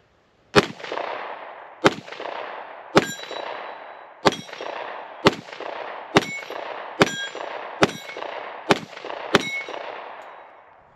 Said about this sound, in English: I'm shooting 10 mil, and it's 21 foot down range right now.